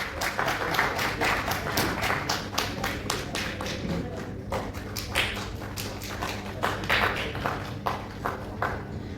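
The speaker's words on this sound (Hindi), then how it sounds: "जोरदार तालियां बजाएं।" An award ceremony audience claps hard for honourees, dense rapid hand claps running continuously throughout, loud and close, with a faint background voice.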